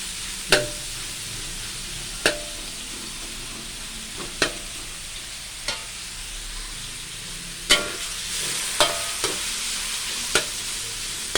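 Pork stir-frying in a wok with glass noodle water added, giving a steady sizzling hiss broken by irregular sharp splatters and spatula scrapes, close and moderately loud.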